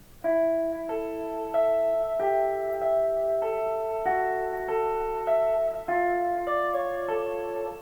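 A clean, melodic riff of ringing plucked notes plays alone, each note sustaining and overlapping in a steady, moderate rhythm.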